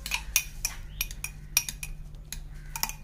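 A spoon stirs mint leaves and lemon pieces in a serving glass, giving quick irregular clinks and taps of metal against glass, close and fairly quiet, with no talking.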